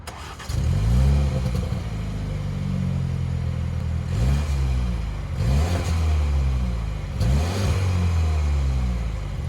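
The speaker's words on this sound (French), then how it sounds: "Vous démarrez la voiture, il y a des petits pop and bang à l'échappement." A BMW X4 engine starts and idles nearby, with several distinct pops and bangs from the exhaust recurring at irregular intervals over the steady rumble.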